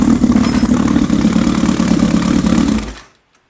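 A motorcycle engine just after carburetor tuning idles steadily and loud up close, an even low burble with slight clatter that holds for about three seconds before the engine cuts off into silence.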